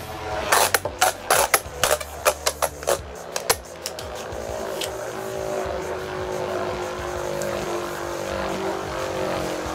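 A 3D-printed Beyblade Dragoon MF (Metal Fantom) rips from its launcher in right spin, with a rapid clatter of sharp clicks, then settles into a steady close whirring hum as the top keeps spinning.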